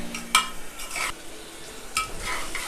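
Onions with salt frying in a pan for chicken curry, a soft steady sizzle with intermittent scraping stir strokes close by, no talking.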